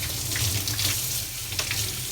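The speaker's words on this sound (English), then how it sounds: "Let's give it a rinse," Tap water running steadily over a Japanese Telecomet terminal part being rinsed at a sink, a close, continuous hissing splash with no talk.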